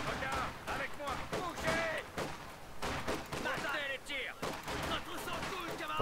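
Gunfire in the World War II strategy game Company of Heroes 2 crackles in repeated sharp bursts and volleys over a busy battle mix, with voices speaking French alongside.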